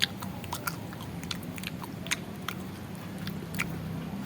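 Grilled wild eel being bitten and chewed up close, with soft wet crunches and smacking mastication repeating steadily over a faint background hum, no talking.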